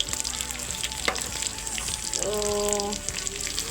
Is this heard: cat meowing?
no